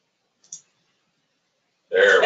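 A computer mouse gives a single short, crisp click in near silence, then a person starts talking.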